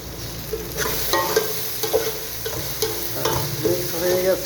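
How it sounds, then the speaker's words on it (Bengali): Onions and garlic fry in a pan while being stirred for a chicken bhuna, a close, constant sizzle broken by repeated scraping stir strokes roughly every second, with no talking. "মোটামুটি আমার পেঁয়াজটা, রসুনটা হয়ে আসছে, আর একটু বাদামি কালার হবে।"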